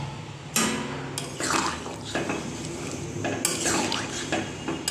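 Cut potato pieces tumble into a pot of Bengali ghugni and get stirred, a few sharp metallic knocks and scrapes of a spoon against the pot repeating over a steady low cooking hiss.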